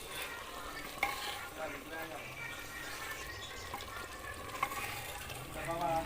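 Meat simmers and fries in a pot, a faint, steady sizzle with occasional stirring knocks, partly under people talking.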